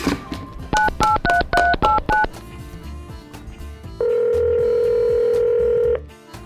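A telephone is dialed with a quick run of about seven electronic keypad tones, then after a short pause a steady ringback or dial tone sounds for about two seconds; no one speaks.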